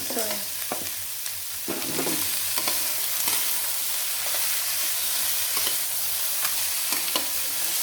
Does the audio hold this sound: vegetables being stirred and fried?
yes